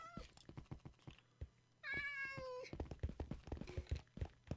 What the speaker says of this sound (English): I've got a zillion and a half stray cats over here